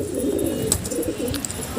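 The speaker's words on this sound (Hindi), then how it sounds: "सारे कबूतर दाना खा रहे" Pigeons coo softly and steadily while pecking at grain, a dense low murmur of several birds running throughout with a few brighter chirps over the top.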